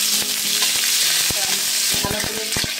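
Bitter gourd frying in a pan, a loud, dense, continuous sizzle of hot oil up close, broken by repeated sharp clinks and scrapes of a spatula against the pan.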